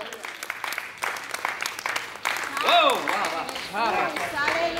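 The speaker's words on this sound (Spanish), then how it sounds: "Dale un aplauso al Señor." A church congregation applauds during an evangelistic service, with clapping mixed with raised voices and cheering shouts that swell midway and continue to the end.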